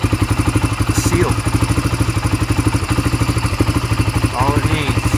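A 1997 Honda TRX 300EX ATV just after a cold start, its engine idling loud and close in a steady, rapid thumping rhythm with some mechanical clatter and a brief squeak or two.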